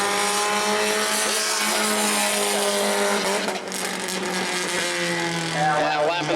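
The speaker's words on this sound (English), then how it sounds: "A little bit off the pace here as the car shoots up the racetrack" A Bomber-class race car roars around an oval at New Smyrna during qualifying, a loud sustained engine note rising and falling with brief tire noise as a commentator talks over it.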